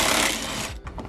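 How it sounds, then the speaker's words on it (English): Impact wrench spinning out 10mm bolts on a Ford Bronco, one loud close whirring rattle that cuts off partway through with a brief tail of clatter. "For that we'll be using an impact."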